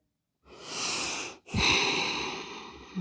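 Close, audible breathing during a yoga stretch: a long drawn breath, a brief pause, then another long airy breath, loud and alone with no talking.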